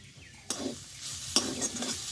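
Spiced cauliflower stems frying in a pan with sugar and cumin powder, a steady low sizzle broken by two sharp, close stirring scrapes partway through.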